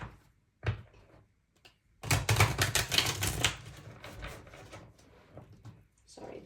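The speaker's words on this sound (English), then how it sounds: "these cards are just flying everywhere" Tarot cards are shuffled in a brief, crisp riffling burst lasting about a second and a half, with quieter handling sounds around it.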